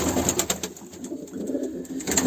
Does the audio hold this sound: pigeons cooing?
yes